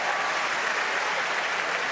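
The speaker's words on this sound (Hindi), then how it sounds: "एक बार जोरदार ताली बजाओ" Loud, dense audience applause fills a state-level school enrollment campaign event hall in Bhopal, steady clapping throughout with no pause.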